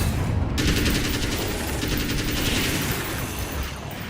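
A gun in Alan Wake's American Nightmare fires loud, continuous rapid shots, a dense unbroken stream of gunfire with no talking.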